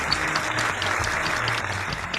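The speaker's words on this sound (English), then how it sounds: "let's give him one more big round of applause, everybody." Dense, steady applause from a comedy game show studio audience, continuous clapping throughout with no pauses.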